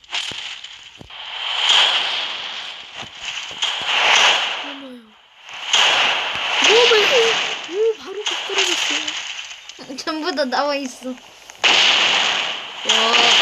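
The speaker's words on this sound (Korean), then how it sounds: "저 불꽃놀이 맞지? 엄청나게 큰 불꽃이네." Repeated bursts of crackling, popping firework explosions in a video game rise and fall over several seconds, with a voice briefly exclaiming between the blasts.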